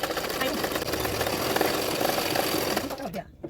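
A sewing machine runs in a steady, fast whirring rhythm while stitching a seam on a size 40 double katori blouse. The motor stays loud and continuous, then stops abruptly near the end.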